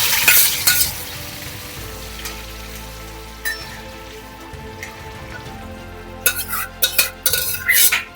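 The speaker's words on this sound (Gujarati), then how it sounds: "હવે આપણે એની અંદર લીમડાના પત્તા નાખી દઈશું." Curry leaves hit hot oil while fried bottle gourd bhaji is stirred, giving a steady close sizzle with bursts of crackling spatter near the start and again toward the end.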